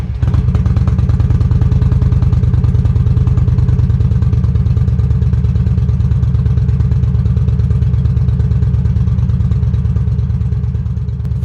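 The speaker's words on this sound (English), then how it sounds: "Cobra exhaust, start and idle." A 2013 Yamaha V-Star 950 cruiser fitted with a Cobra slip-on exhaust idles steadily after starting, giving a loud, close, deep, even thumping with a slight mechanical clatter throughout, and no talking.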